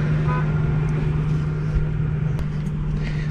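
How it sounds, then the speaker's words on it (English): Cars and traffic rumble across a busy Walmart parking lot at night with a steady engine drone and a faint tonal hum. Occasional clicks and distant noises sit over the hum, and no one talks. "Just like 6 cars and throughout the parking lot honking at each other."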